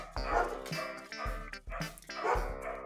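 Several dogs bark and yip close by in quick repeated bursts, loud and continuous through the moment, with no talk over them.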